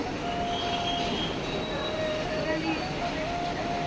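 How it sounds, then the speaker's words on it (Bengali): A train at Rampurhat railway station gives a steady rumbling roar with thin, high wheel-squeal tones drifting through it, fairly loud and continuous, with faint background voices. "নেমে পড়েছি রামপুরহাটে স্টেশনে"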